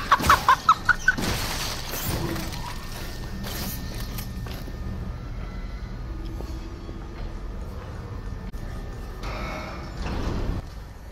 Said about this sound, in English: Y'all little thick chicken.